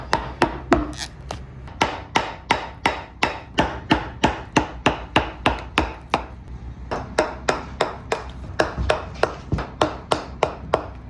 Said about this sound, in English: He patterned and cut the rolling bevel into the stem using chisels